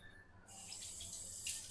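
Water runs steadily from a kitchen tap, filling a vessel to be heated, a continuous close hiss that starts abruptly and keeps going for the short stretch.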